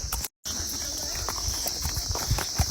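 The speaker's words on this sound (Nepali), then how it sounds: "अर्को घोडा नि आउँदैछ है" Horse hooves clip-clop at a walk during a horse-riding visit at Kanyam, steady soft knocks close by, with people talking over them and a constant high hiss in the background.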